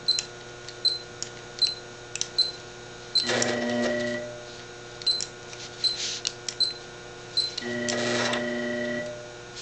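An APQS Millennium longarm quilting machine set to about eleven stitches per inch starts up at the quilt's edge, giving two sustained whirring runs separated by scattered clicks and ticks of needle and controls, with no voices.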